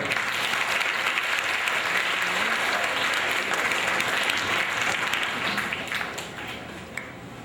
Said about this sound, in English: Everybody give my partner Ace a round of applause